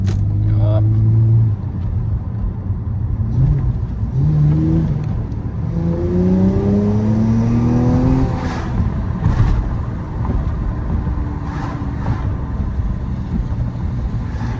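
Lexus GS300 sedan driving with its automatic transmission shifting, the engine hum rising and stepping through smooth gear changes under steady road noise, with people talking over it.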